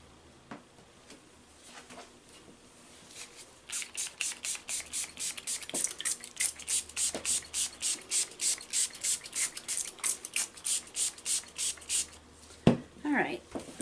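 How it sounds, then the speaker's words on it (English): A spray bottle spritzes alcohol onto the top of a tall piped cold process soap, producing a long run of about twenty quick, evenly spaced bursts. The spray sounds close and fairly loud and has no talk over it. "Let me give it a spritz of alcohol."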